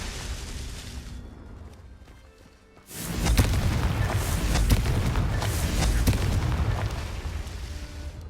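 The Confringo fire spell explodes in Hogwarts Legacy during a duel, a loud booming blast that erupts after a brief lull and rumbles on with crackling bursts for several seconds.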